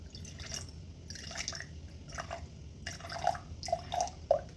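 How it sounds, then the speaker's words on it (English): Water trickles and splashes into a jar in short bursts for a sourdough starter, with a few small drips and plops, quiet and close. "I'm going to put in 75 grams of water"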